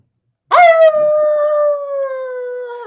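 A woman imitates a wolf howl with her voice, starting abruptly and holding one long, loud, steady tone that slowly falls in pitch for over two seconds, alone without other talk.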